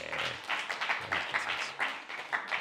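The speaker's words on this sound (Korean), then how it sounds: "박수 한번 쳐주세요." Congregation clapping together during a church sermon, with a run of quick, uneven claps repeating fairly close by for a few seconds.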